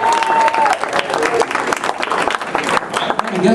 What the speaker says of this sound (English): Say hello to Bill Shabilsky one more time with a round of applause